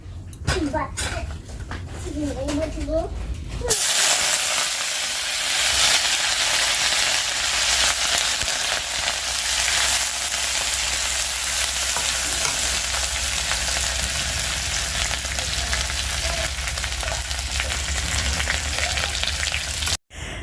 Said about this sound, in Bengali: শুটকি মাছটা ভালো করে ধুয়ে আমি দিয়ে দিয়েছি আর ভালোভাবে ভেজে নিতে হবে